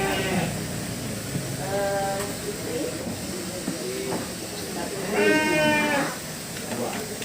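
Goats at a livestock hall for goats bleat twice, a short call and then a louder, longer one, fairly close over steady background murmur and hiss.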